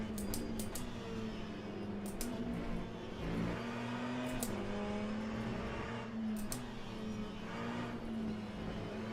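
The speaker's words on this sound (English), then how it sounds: "The external sound of the LMP2 cars is quite nice" Engine note of an LMP2 prototype race car in Le Mans Ultimate, heard from outside: a steady droning hum with shifting pitch, held at an even level throughout with brief higher whooshes.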